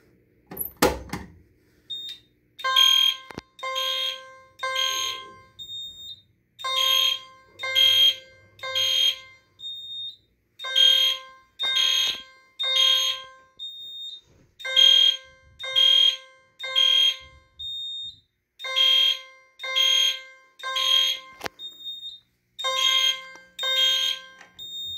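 A 4050-001T fire alarm system set off during a system test sounds a loud, steady temporal pattern of repeated electronic beep bursts in groups of three with short pauses, a brief clunk at the start and no talking.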